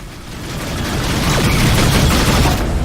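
Sustained rapid turret gunfire from a spaceship in the space combat game Rebel Galaxy Outlaw, a dense, steady fusillade of overlapping shots that stays loud throughout.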